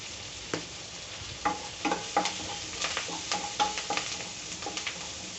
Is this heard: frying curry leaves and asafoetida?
yes